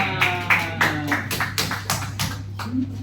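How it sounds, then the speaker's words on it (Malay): Pupils in a Malaysian primary science class give a short round of applause, a loose run of separate hand claps at an uneven beat over a steady low electrical hum. "Okey, tepuk tangan."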